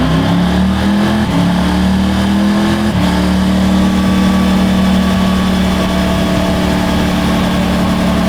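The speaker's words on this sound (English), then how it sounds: "Couple motorcycles there." Motorcycle engines drone steadily and close, with a couple of pitch shifts as other motorcycles go by on the road during a ride.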